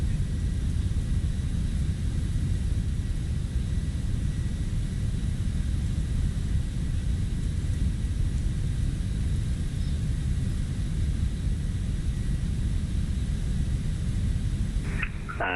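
Steady, loud roar of MD-11 jet engines at climb thrust in Microsoft Flight Simulator, a broad continuous rumble holding evenly throughout with no talk over it.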